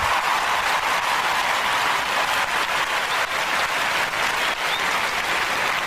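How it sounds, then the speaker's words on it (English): Sustained applause from many hands, a thick, even wash of clapping that stays loud and unbroken throughout. "Let me give everybody a clap again"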